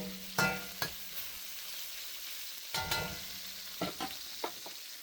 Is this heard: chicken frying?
yes